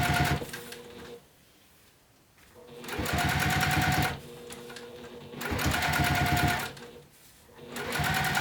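Sewing machine stitching a bi-fold wallet with binding, three loud bursts of rapid, steady needle clatter with short quiet pauses between, heard up close.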